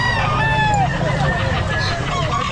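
A kanawayon gamefowl rooster crows loudly and close at a pet market, one long cock-a-doodle-doo over a busy background of chatter and noise.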